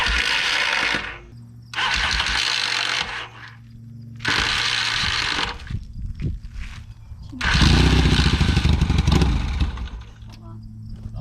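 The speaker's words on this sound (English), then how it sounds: "the bike did start over once, but I'm still looking to get it started and continue running" A 1978 Yamaha XS650 motorcycle being cranked in repeated bursts, with loud rough engine turnover in several separate attempts, a longer roar near the end and short pauses between attempts. Someone speaks faintly during the gaps.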